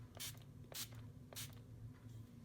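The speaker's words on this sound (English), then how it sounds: "We're going to take this and we're going to just spray it" A handheld spray bottle mists liquid onto a painted flower pot in three short, quiet hissing bursts, spaced about half a second apart, over a low background hum.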